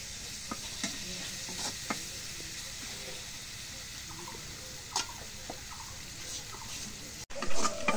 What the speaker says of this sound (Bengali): এখন পেঁয়াজ মরিচ ভাজা হয়েছে,